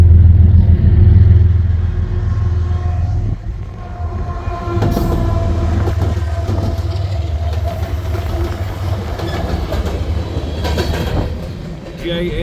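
An empty westbound coal train rolls past near Ashland, Nebraska, on the Creston subdivision, with a loud low rumble and rhythmic clatter of wheels over rail joints as the cars go by, joined by brief screeches.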